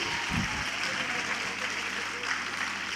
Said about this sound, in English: may we please have a very loud round of applause